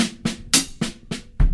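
A short drum beat on a kit with the hi-hat accent shifted off the first beat: six sharp hits in quick succession, snare cracks and a brighter cymbal-heavy stroke, close and alone, ending on a low kick.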